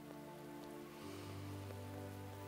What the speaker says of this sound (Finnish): Pallon pintaa osuva sade kuulostaa vittuilulta.